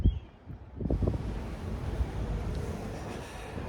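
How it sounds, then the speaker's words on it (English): Strong cold wind buffeting the microphone outdoors on the Frederick art walk, a loud continuous rumbling roar with gusty thumps near the start, then steady blustering noise with no talking. "it is quite cold and windy."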